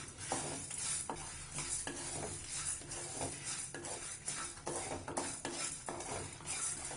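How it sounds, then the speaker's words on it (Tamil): Coriander seeds, toor dal, black pepper and dried chillies being dry roasted in an oil-free pan, giving steady, close scraping and rattling stirs with light crackle, repeating rhythmically throughout with no talking. "அடுத்தது இதே மாதிரி வெறும் வாழலையில் மல்லி, துவரம்பருப்பு, மிளகு, மிளகாய் இந்த 4 பொருளையும் சேர்த்துக்கலாம். இதையும் ட்ரையாக வறுத்துக்கலாம்."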